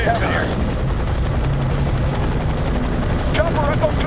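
A military helicopter hovers overhead in the game F.E.A.R. 3, a loud continuous rotor thrum filling the scene, with radio-style voices talking over it.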